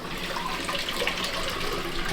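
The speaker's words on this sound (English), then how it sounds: "And then when you flush" A Japanese toilet in Tokyo flushes with a steady rush of running water, close and continuous, building slightly toward the end.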